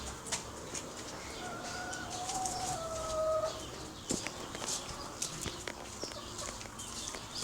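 Backyard chickens cluck and murmur nearby while a rooster crows in a couple of drawn-out calls, with scattered sharp squawks and faint ambient noise outdoors.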